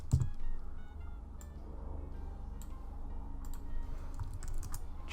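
A username is typed on a computer keyboard in a quiet room, with a run of light, irregular key clicks tapping close to the microphone at a low level over faint background hum.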